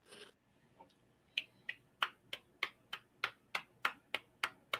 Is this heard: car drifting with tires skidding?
no